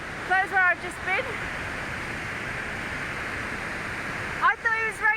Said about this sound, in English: I thought it was raining, but it was the spray coming off of the waterfall. It's so powerful at the moment.